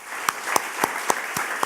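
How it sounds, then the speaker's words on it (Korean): A church congregation at an Easter worship service claps in rhythm, about six evenly spaced strong claps over a softer background patter, moderately loud in a reverberant hall. "우리 하나님께 영광의 박수 다시 한번 돌리도록 하겠습니다."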